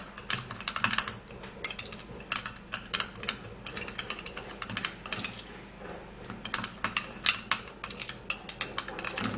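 Coffee stretch-mark scrub stirred in a bowl, giving a rapid, irregular series of light clicking and scraping taps of utensil against the dish, close and fairly quiet, with no talking.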